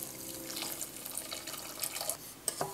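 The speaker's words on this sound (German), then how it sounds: "Da habe ich schon mal Zucker in einen Topf gegeben und kipp hier jetzt heißes, abgekochtes Wasser mit rein." Hot boiled water poured from a kettle into a pot holding sugar for syrup, a steady splashing liquid pour lasting the whole stretch, close and moderately loud, with a few sharper clinks near the end.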